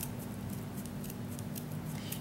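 Sharp scissors snip through ribbon folded double for thickness, cutting it on the diagonal. The close, quiet cuts come as a rapid run of crisp clicks with no talking.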